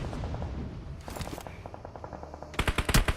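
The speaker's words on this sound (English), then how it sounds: "here comes a couple of more shots against RxN ESPORTS" Automatic gunfire in a PUBG esports match, with rapid bursts of shots at an even rhythm that grow into a louder, closer volley at the end, with no talk over it.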